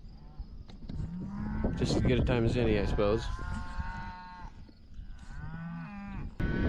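Cattle moo loudly at close range in a pasture where a bull has been hurt, several drawn-out calls overlapping, while someone talks briefly over them.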